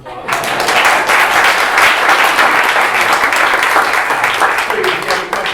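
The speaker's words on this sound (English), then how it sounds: "Give yourselves a round of applause." A large audience at an arts education conversation event applauds loudly, a dense, sustained wash of clapping that rises quickly and carries on evenly to the end.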